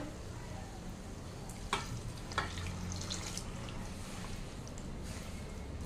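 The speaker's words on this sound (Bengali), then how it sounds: "এবার আমি অ্যাড করছি দুধটা" Milk poured into chicken pulao cooking in a pan, a steady sizzle and bubbling with a couple of brief clinks and stirring sounds, fairly close and alone without talk.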